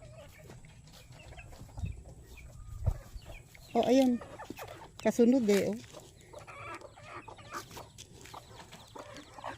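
A laying hen clucks in short, close bursts while being fed in a backyard, two distinct rounds of clucking standing out over quiet surroundings, with a person speaking softly.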